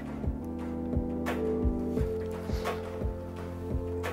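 The opening of a drum and bass track: a soft, simple harmonic pad with a steady samba-ish clap loop tapping in a regular pattern on top, played fairly quietly.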